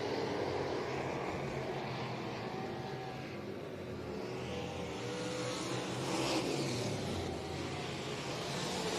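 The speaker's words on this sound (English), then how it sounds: "Very free race car, turning on a dime on the bottom side, a little too free possibly." Sprint race cars roar around the dirt oval at Heart O' Texas Speedway, a dense, continuous engine drone that swells and fades as cars pass, loud and steady throughout with no voices.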